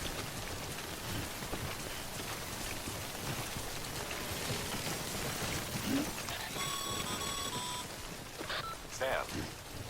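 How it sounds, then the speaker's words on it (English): Timefall rain in the video game Death Stranding falls as a dense, steady patter on surfaces, with a brief series of electronic beeps and tones near the end. "Don't stay out in the rain any longer than you have to."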